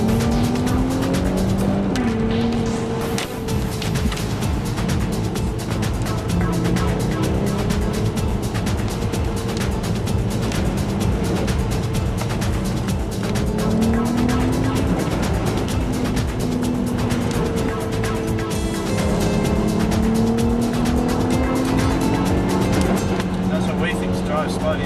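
A car driving slowly over ice on a treacherous snowy mountain road near 1,100 metres at about -1 degrees, its engine droning steadily throughout with rising and falling pitch under a voice.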